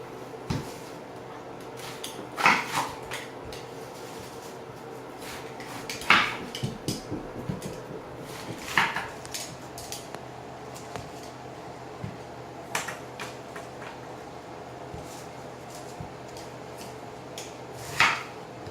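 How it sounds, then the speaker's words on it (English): Knife chopping cabbage into big chunks on a board, sharp irregular knocks and clatters spaced every few seconds over a steady low kitchen hum. "So now we're going to cut up our cabbage."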